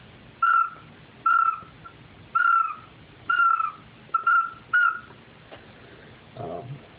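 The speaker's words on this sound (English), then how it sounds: "your gargling sound would be like this." A Flashback duck whistle call from Insane Custom Calls gives a series of short, rhythmic whistled notes, about six in a row, followed by a brief low gargling rattle.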